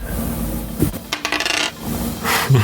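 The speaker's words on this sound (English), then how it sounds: "Oh god, I love the sound of those dice." Dice rattle and clatter across a tabletop during a tabletop game session, several quick, close bursts of clicking and tumbling with short pauses between.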